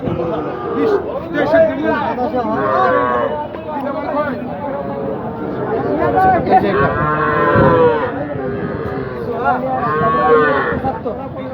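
Sahiwal heifers moo repeatedly at the busy Ambari cattle market, with loud, drawn-out calls from nearby animals over a constant crowd babble and people talking.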